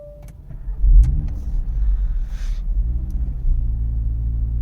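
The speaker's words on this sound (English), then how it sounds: "and then start the vehicle." A 2023 Audi RS 3 engine starting: a brief starter crank, then the engine catches with a deep rumble that settles into a steady, loud idle close by.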